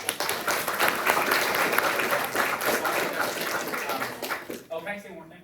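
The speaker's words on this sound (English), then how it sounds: "get a round of applause?" A room of student club members gives a round of applause at a general meeting, dense clapping for about five seconds that tapers off into a brief voice at the end.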